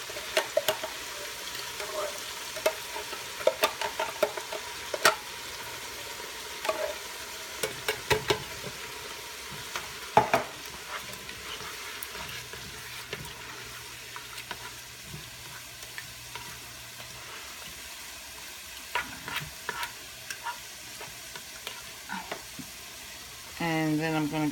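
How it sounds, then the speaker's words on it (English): Crushed tomatoes go into a sizzling soup pot, giving a soft continuous sizzle broken by scattered clinks and scrapes of stirring, with a brief burst of louder activity at the very end. "So I'm going to add my crushed tomatoes, and this is the tortellini one."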